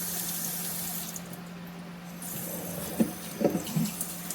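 Water trickles softly into a potted plant, a faint steady pour over room hiss followed by a few brief splashes and drips near the end, with no voices.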